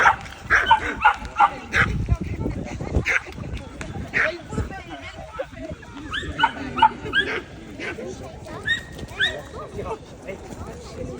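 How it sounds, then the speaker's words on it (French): Dogs bark, yip and growl in short, irregular bursts at close range, while people talk over them. "ils communiquent avec leur corps, donc c'est normal ils fassent ça, qu'ils grognent"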